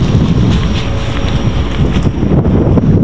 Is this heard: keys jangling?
no